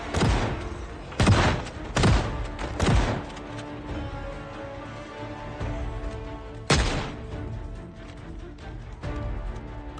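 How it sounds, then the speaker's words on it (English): Gunfire rings out up a stairwell in Project Zomboid: four sharp shots in quick succession, a pause, then one more blast, each loud and close with a brief echoing tail over a steady background hum. "Now, shooting up the stairwell like this"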